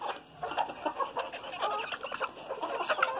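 Hens and a rooster cluck continuously at close range, a busy overlapping chorus of short calls from a flock that includes a crested rooster with feathered feet and a bearded, frizzled bird, all apparently feeding on kale.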